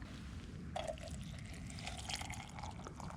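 Water pours steadily into a cooking pot for pasta in the woods, a continuous close trickle and splash that starts abruptly and runs to the end over outdoor background noise.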